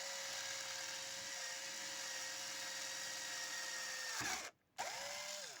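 Small power drill with a 2mm bit bores steadily through a plexiglass sheet, a continuous high whine held close and loud, then cutting out briefly before spinning up again at the end.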